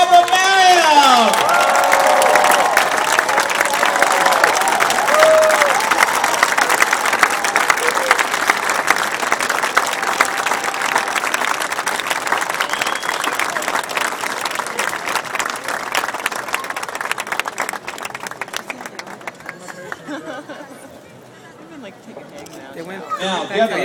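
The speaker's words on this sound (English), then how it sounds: "Let's give a huge round of applause for Gebra" Sustained crowd applause and cheering for the winner of a charity running race, a loud, dense ovation with occasional whoops that slowly thins out and fades near the end.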